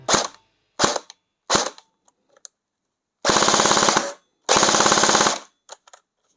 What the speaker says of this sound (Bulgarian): ето така звучи с 11 волтова батерия